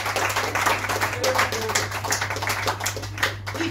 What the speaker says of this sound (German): Einen riesigen Applaus bitte für Karl Cooper!